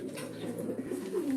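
Racing pigeons being basketed coo in a soft, continuous, low rolling murmur, several birds close together, with a brief brighter note near the end.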